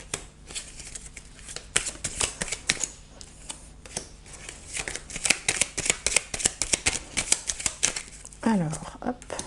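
Tarot cards being shuffled by hand at close range, a dense run of crisp riffling flicks and soft card slaps with brief pauses, ending as a voice begins speaking.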